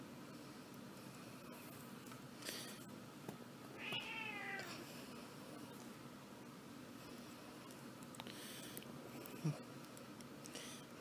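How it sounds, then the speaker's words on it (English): A cat indoors near a TV tray holding rubber bands, heard as a single quiet meow amid faint bumps and light ticks over low room hiss. "My cat keeps bumping into the TV tray. Moving my rubber bands around."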